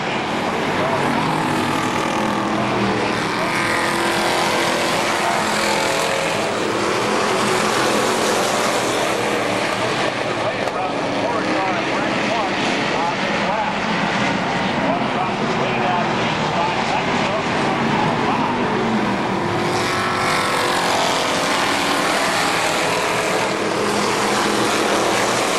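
Race cars battle at KilKare Speedway, with a loud, steady roar of several engines running together throughout, close and continuous, while an announcer calls the action over it.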